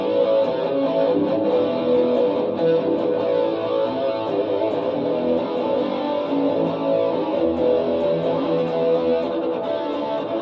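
Electric guitar played through an MXR Rockman X100 with distortion and chorus gives a thick, saturated, shimmering tone that sustains evenly for about ten seconds, with no voices.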